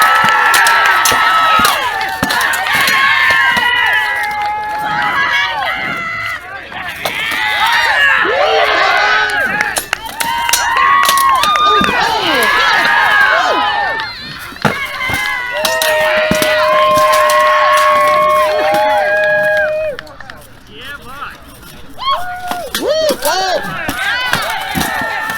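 Spectators at a Renaissance faire armoured sword-and-shield combat roar and shout, with children's high yells and sharp clanks of blows on shields cutting through, loud and close, surging and dipping over about twenty-five seconds.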